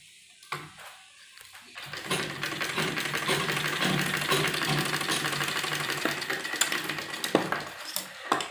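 Sewing machine stitching a lined baby kurti for a 5–6 year old, a steady continuous mechanical whir running for several seconds after a few brief handling clicks, close and fairly loud, with no talking.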